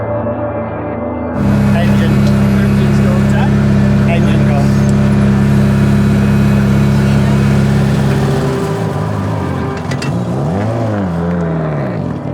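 A rally car engine running with a split radiator hose drones loud and steady at close range, dropping and wavering near the end, with a voice speaking over it.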